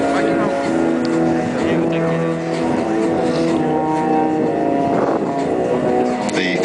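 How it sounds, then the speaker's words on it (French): A CASA 352L, a Junkers Ju-52/3M, flies at top speed on three American Pratt & Whitney engines of 550 horsepower each. Their droning hum is loud and steady throughout, with someone talking over it. "c'était 3 moteurs américains de Pratt & Whitney qui propulsaient timidement notre Ju-52"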